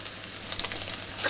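Sausage sizzles in a hot pan for biscuits and gravy, a short burst of steady frying crackle that builds slightly toward the end.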